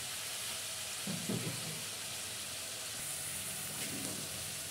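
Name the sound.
onions sautéing in a pan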